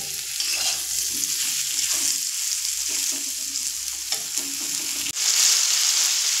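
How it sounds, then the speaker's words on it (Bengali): Ridge gourd slices frying in oil over a high flame, a steady close sizzle running throughout, with a brief sharp clatter near the end as the pan is disturbed. "3 থেকে 4 মিনিট হাই ফ্লেমে ভেজে নেব"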